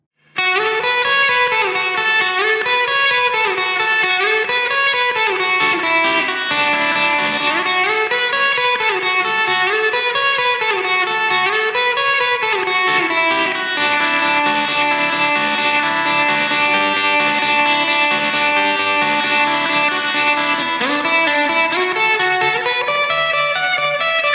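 Electric guitar chords ring out with a wavering, pulsing tremolo and a splashy, drippy spring reverb tail from pedals, sustained and loud throughout.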